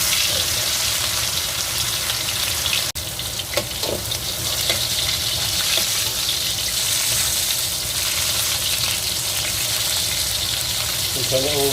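Meatballs for braised lion's head frying in a second batch of low-heat oil, a steady dense sizzle throughout with occasional pops and bubbling, close and alone.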